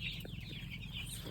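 Chickens on a farm, big hens and small young birds together, giving soft, steady clucks and murmurs close by, with a brief flutter of wings partway through.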